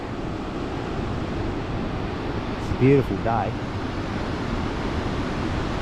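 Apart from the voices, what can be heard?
ocean waves at coastal lookout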